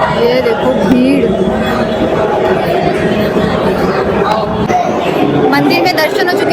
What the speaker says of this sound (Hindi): ये देखो भीड़।